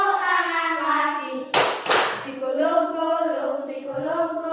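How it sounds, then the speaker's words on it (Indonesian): A few sharp hand claps from children during a clapping song, two quick bursts in the middle with sung or chanted voices before and after. "Buka tutup, tepuk tangan lagi."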